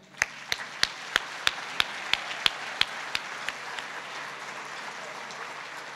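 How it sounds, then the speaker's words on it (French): An audience claps in steady, slow unison, with about a dozen sharp claps evenly spaced and growing fainter until they fade out. "je pense qu'on peut l'applaudir."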